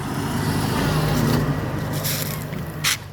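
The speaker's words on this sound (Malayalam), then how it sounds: "ഒരു സ്കൂൾ ബസ്സൊക്കെ വരുന്നുണ്ട് കേട്ടോ" A school bus passing along a leafy road in a pleasant climate, a broad engine rumble swelling near the middle and easing away, with a brief louder burst near the end.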